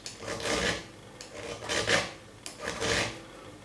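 A flat file rasps across chainsaw depth gauges in three separate scraping strokes, close and moderately loud, with short pauses between them and no talking.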